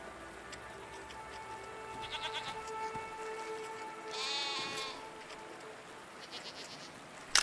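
Goat-like creatures in the video game SEASON: A letter to the future bleat in a few soft, mid-distance calls over a quiet ambient bed, with a brighter cluster of bleats near the middle.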